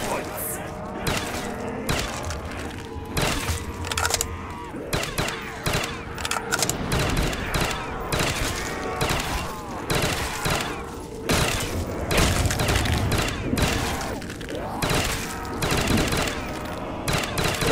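Rapid gunfire from a Call of Duty custom zombies map set at a truck stop: dense bursts of shots and thuds, loud and continuous, with a voice talking over the shooting.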